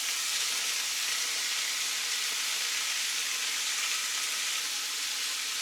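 Onion and yellow peppers frying in olive oil in a cast iron pan, giving a constant bright, hissing sizzle that stays even and fairly close throughout, with no talking.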